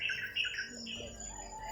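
A harsh crow squawk rings out near the start, followed by scattered bird calls over a steady outdoor background.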